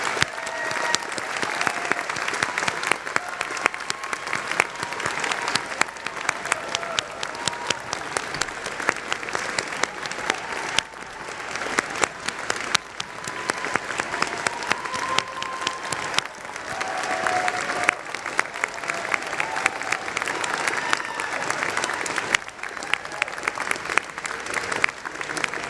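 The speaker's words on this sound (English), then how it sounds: "I want to ask our faculty to stand and give a round of applause to our graduates." Sustained applause for graduates at a university commencement: dense, steady clapping from a large audience fills the hall for the whole stretch, with faint crowd murmur underneath.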